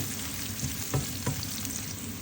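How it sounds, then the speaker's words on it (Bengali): Garlic with dried red chillies is stirred in a frying pan, giving a steady close sizzle with two soft scraping thumps near the middle. "তো এগুলো আমি একটু হালকা নাড়িয়ে চাড়িয়ে নিলাম।"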